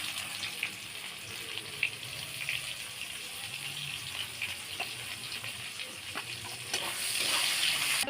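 Chopped onion fries in oil with a soft, steady sizzle, fairly quiet and even throughout, growing slightly louder near the end with faint clinks.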